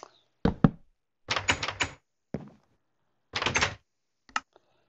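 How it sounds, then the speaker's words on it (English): Blocks or doors being placed in the Minecraft video game, heard as a series of sharp wooden knocks and short clattering bursts in irregular groups, fairly close and alone without talk. "Place my doors."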